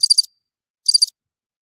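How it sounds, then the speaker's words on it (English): Cricket chirps used as a sound effect: two clean, loud bursts of rapid high trilling pulses, separated by a moment of total silence. "I didn't hear nothing but crickets chirping right there"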